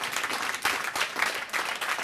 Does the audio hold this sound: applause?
yes